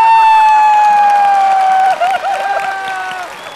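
Studio audience applause and cheering on a Vietnamese TV music show welcoming the judges, loud and dense throughout, with a sustained musical tone over it.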